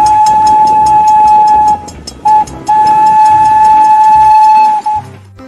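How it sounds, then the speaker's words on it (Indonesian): A loud, shrill toy Thomas steam-train whistle blows in long sustained tones, briefly cutting out and resuming, ending with a short hiss. "Ini adalah kereta api Thomas."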